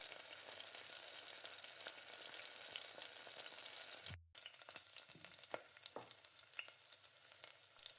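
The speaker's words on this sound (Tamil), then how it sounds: "நல்லா எண்ணெயிலே நல்லா பொரிஞ்சு வரட்டும்" Small onions and spices fry in hot oil, making a dense, close hiss and crackle that cuts out briefly and then resumes, with a few louder pops and stirring sounds and no voices.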